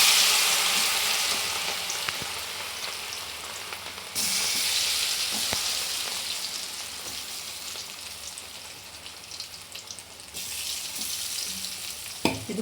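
Cauliflower fries in hot oil with a continuous crackling sizzle that swells and settles as pieces go in. Occasional clicks and taps of stirring sound nearby, and no voices are heard.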